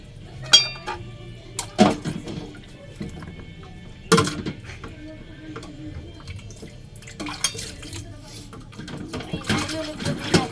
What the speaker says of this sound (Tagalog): Nilinisin na natin ang ating plato.